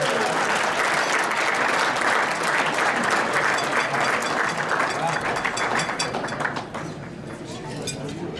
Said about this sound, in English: Ladies and gentlemen, round of applause for Colonel Retired Randy Spetman.